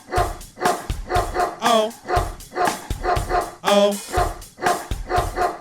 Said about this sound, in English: There was a farmer had a dog